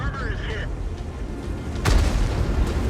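A deep booming blast of heavy tank cannon fire from the M47 Iron Arnie in a video game cuts through a noisy battle scene, with rumbling low-end and steady background din.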